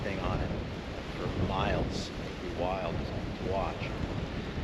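Strong wind gusts sweep sand across a Pacific beach, with a roaring, buffeting rush against the microphone that swells and eases in waves while someone speaks over it.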